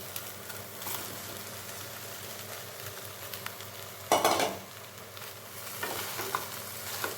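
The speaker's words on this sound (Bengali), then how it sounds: "এখন আমি এর মধ্যে দিয়ে দেব এই মেখে রাখা সয়াবিন।" Marinated soybean chunks with chopped garlic and spices stirred and fried in a thick spice paste, a low steady sizzle with scattered scraping of a spoon against the pan and one louder clatter midway, close up and free of talk.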